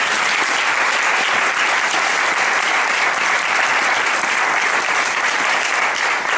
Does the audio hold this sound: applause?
yes